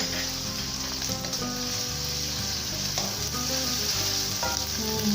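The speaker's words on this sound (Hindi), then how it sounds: "प्याज जैसे हमारे फ्राई हो रहे हैं, तो अब हम डालेंगे अदरक लहसुन कुटा हुआ" Steady oil sizzle and frying crackle as crushed ginger and garlic fry with onions in a pan, continuous and fairly loud, with occasional stirring scrapes and no talking.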